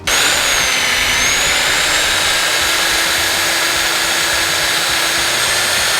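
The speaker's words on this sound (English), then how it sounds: "There's that hole I just drilled" A power drill bores a hole in the metal frame of an old fishing boat trailer, giving a loud, steady, high motor whine that runs unbroken for several seconds with no talking.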